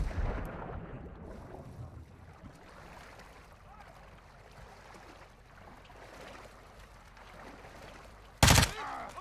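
A long, fairly quiet stretch ends with one sudden, loud burst of gunfire in Call of Duty: Modern Warfare 2 (2022) near the end.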